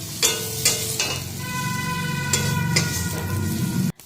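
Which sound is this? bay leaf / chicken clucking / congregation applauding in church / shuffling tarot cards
bay leaf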